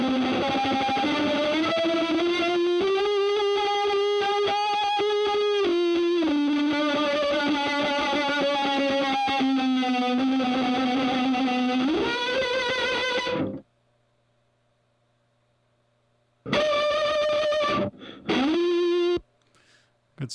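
Heavily distorted instrument tone running through an effects unit, a buzzy, scratchy sustained line that shifts pitch in steps for about thirteen seconds, stops into near silence, then returns in a few short loud bursts.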